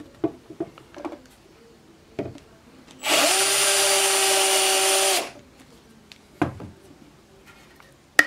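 A Bosch drill runs steadily for about two seconds while drilling and countersinking a hole, loud and close, between scattered light taps and handling clicks.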